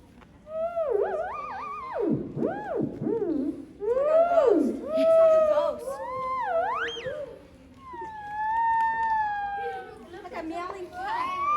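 Theremin played by raising and lowering a hand, producing gliding, swooping pitched tones that slide up and down like a meowing cat, fairly loud and continuous with brief pauses.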